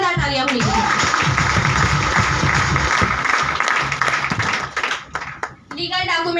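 An audience at a multi-level marketing plan presentation in Rajnandgaon claps in a loud, sustained burst, with voices and amplified speech mixed in over the clapping.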